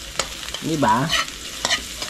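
Ginger and garlic sautéing in a pan, a soft sizzle with a few sharp spatula clicks, and a brief voice speaks partway through.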